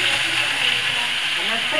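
Pork belly sizzles and fries in oil with a constant bright hiss and light crackle, close by, while faint voices murmur underneath.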